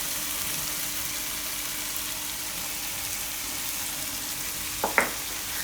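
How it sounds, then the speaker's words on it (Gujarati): Roasted, peeled tomatoes with salt cook in a pan, giving a steady, soft sizzle throughout with a couple of small clicks near the end and no talk. "તો થોડીક વાર ટમેટાને પાકવા દઉં."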